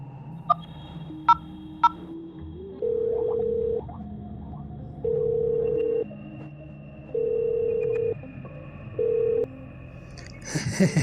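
Number 100 being dialed on a smartphone keypad, with three quick sharp key beeps and then a ringing tone pulsing in long, evenly spaced bursts, clear and close.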